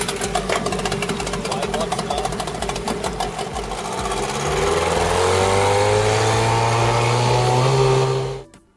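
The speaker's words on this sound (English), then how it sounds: "They also added a motor, allowing the DIY boat to move on water just like a real motorboat" A small motor on a DIY toy boat buzzes steadily and close, its droning pitch slowly climbing as it revs higher, then cutting out abruptly at the end.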